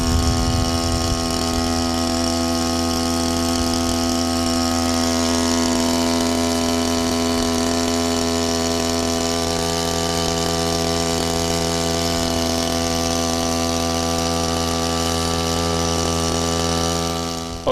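Motorised lawn sprayer running steadily with a constant droning engine hum and pump whine, loud and close, unbroken for the whole stretch with no voices.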